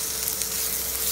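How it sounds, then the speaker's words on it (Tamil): Ginger garlic paste sautéing in a pan for an eggplant stir-fry, a steady soft sizzle that stays even and fairly quiet throughout. "இந்த இஞ்சி பூண்டு வந்து பச்சை வாசனை போகிற அளவுக்கும் வதக்கிடுங்க."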